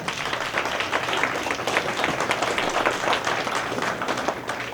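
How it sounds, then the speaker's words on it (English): An audience at a holiday party hypnosis show applauds two volunteers, steady, even clapping from a moderately sized crowd, sustained throughout at medium distance. "Let's give a big round of applause to Liz and Cheryl."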